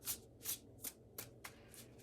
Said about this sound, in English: I don't want you guys cringing because I'm riffle shuffling